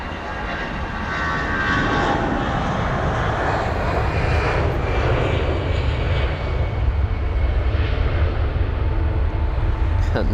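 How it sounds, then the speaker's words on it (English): An Aer Lingus Airbus A320ceo jet at London Heathrow, a loud sustained engine roar that swells in within the first second and holds steady throughout. "And there goes the Aer Lingus A320 CEO."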